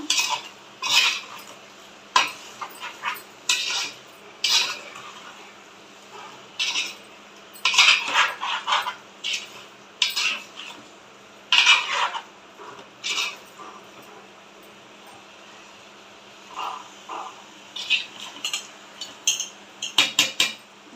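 Spoon scraping and clinking against a metal pot while chicken gravy curry with turmeric is stirred, in irregular bursts of short metallic scrapes separated by quieter pauses, close and clear with no talking.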